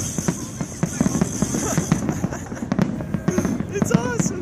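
A New Year's Eve fireworks show in Las Vegas bursts in a rapid, irregular series of loud cracks and booms, layered over a continuous crackle, while people talk excitedly nearby.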